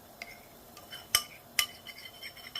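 A metal spoon stirs melting wax in a pot for a cracked-heel cream, giving soft scraping and a few sharp clinks against the pot's side, close and fairly quiet.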